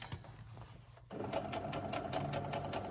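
A domestic sewing machine runs a zigzag stitch along a seam on an 18-inch doll dress, its motor whirring steadily and close, starting quietly then picking up into a faster, louder, even rhythmic chatter.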